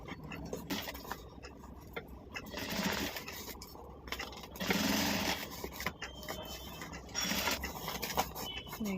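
A sewing machine stitches around a round handbag, its needle whirring in several bursts separated by brief pauses, close and fairly quiet.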